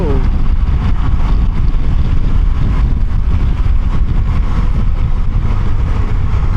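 Suzuki V-Strom 800 middleweight motorcycle at highway speed, a loud steady engine drone mixed with heavy wind rush, with a brief rising rev near the start as the throttle opens.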